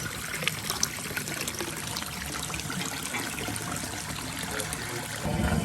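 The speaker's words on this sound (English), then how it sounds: "this water is coming straight from the creek" Cold creek water trickles and splashes steadily into a hot spring pool in Idaho, a continuous close wash of running water that grows slightly louder at the end.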